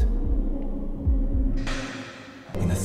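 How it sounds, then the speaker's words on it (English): A throbbing heartbeat effect opens a song, several deep thumps in a steady rhythm over a low hum before brighter music enters. "There's like a heartbeat thing going on."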